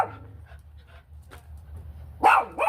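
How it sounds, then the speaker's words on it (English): Dogs bark indoors: soft panting and whimpering come first, then two sharp, loud barks close by near the end. "I'm sorry about the dogs. I love them to pieces, but they're barkers."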